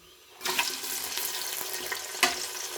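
Onions sizzle and hiss as they fry in hot oil in a pot for an aloo gosht curry, a steady loud crackle starting abruptly after a moment of quiet, with no talking.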